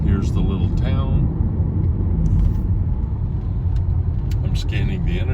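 A car accelerates along a two-lane road approaching a small town, a steady low engine and road rumble from inside the cabin that builds gently, with a person talking over it.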